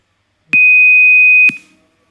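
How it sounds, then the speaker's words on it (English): A single steady electronic beep from an accident detection alert system, clean and high-pitched, lasting about a second and starting and ending with a click. "It will give the beep sound."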